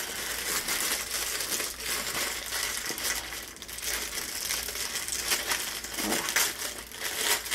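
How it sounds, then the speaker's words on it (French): A very small plastic bag is opened and handled, giving loud, continuous crinkling and crushing close up; a voice briefly speaks near the end. "Je m'excuse pour le bruit. C'est un tout petit sac."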